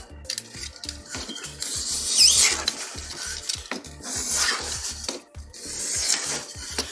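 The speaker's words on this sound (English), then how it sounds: "Make sure you have a sharp knife, drag it at a low angle." A blade scrapes and drags through material in repeated short strokes, with scattered clinks and rustles of handling in between, close up.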